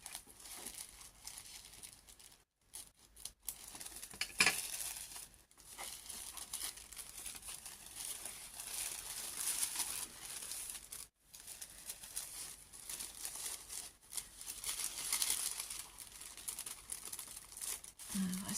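A small gift package marked Thank you is unwrapped carefully by hand, giving close, intermittent crinkling and light tearing of paper or plastic wrapping with brief pauses, while someone talks over it.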